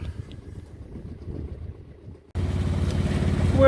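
A sailboat motoring under engine power at about 4200 revs: a steady, low throbbing drone close by, joined midway by louder wind and water rush that stays constant to the end.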